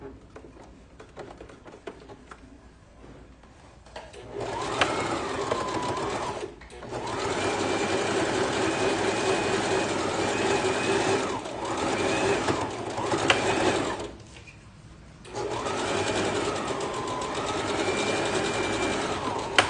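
A domestic sewing machine runs in several steady stitching bursts with short pauses, stitching a fabric pencil case; the motor hum and rapid needle patter are close and loud, with no talk.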